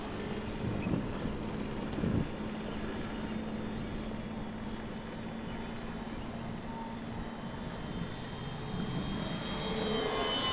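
An EC-1500 radio control airplane flies and banks through a shallow turn, its engine a steady, moderately distant drone with wind noise over the microphone, holding an even level throughout.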